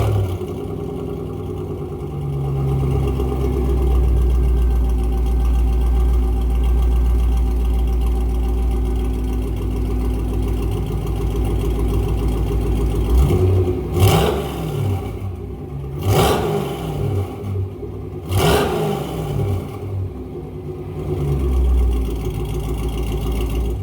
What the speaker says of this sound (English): let me insert you a little clip that I just filmed of not exactly a cold start